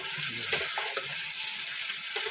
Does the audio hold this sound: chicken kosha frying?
yes